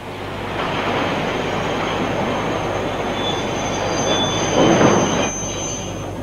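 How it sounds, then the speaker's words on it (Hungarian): Rail wheels squeal loudly as a train brakes with conventional brake blocks on a Hungarian railway line, a steady grinding rumble with high-pitched screeching that builds to a peak near the end. "Így hangzik egy hagyományos fékezés a vasúton."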